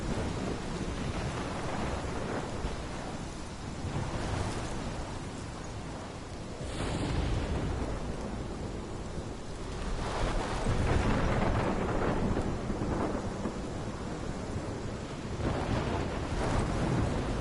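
A thunderstorm with rain in the Life is Strange video game: a steady wash of heavy rain with rolling, rumbling thunder swelling at intervals, loud and continuous throughout with no voices.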